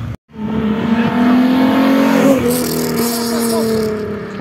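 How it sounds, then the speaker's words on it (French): A Renault Clio engine revs loudly and continuously nearby, a strong rising and sustained engine note with a faint high squeal near the middle, heard against outdoor street noise. "Une Clio qui fait du bruit."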